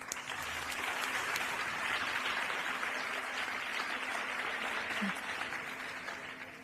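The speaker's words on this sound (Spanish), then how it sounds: "Un fuerte aplauso." A conference audience gives steady, even applause, many hands clapping together for several seconds before slowly tapering off.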